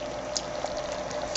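Potato soup with sour cream bubbles in a pot on the stove, a steady soft simmering hiss with small pops, close and continuous.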